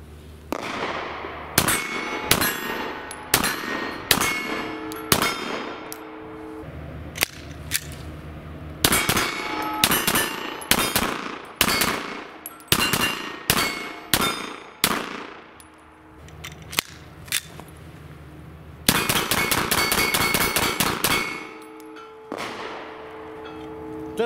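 A Walther Creed pistol firing at steel targets, a long string of sharp shots each answered by a ringing metallic clang, coming in quick bursts with short pauses and a rapid final volley.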